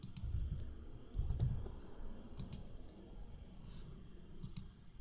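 Someone types on a computer keyboard. Sparse, faint key clicks come in small clusters over a low background rumble.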